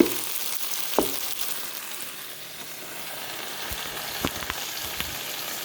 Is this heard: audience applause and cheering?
no